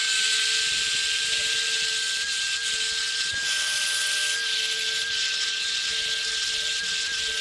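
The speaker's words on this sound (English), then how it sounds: "This is a 180 surface conditioning. And I'm bringing the speed down a little bit on the grinder." Angle grinder turned down to about half speed, running a 180-grit surface conditioning disc over metal: a steady, loud high-pitched whine with a constant tone, continuous throughout with slight variations as the disc works the surface.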